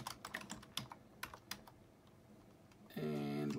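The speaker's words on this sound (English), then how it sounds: "I'm going to go right in the search bar again and type system information" Quick, uneven clicks of computer keys come from typing into a search bar, close and crisp for about three seconds before a brighter tonal sound takes over at the end.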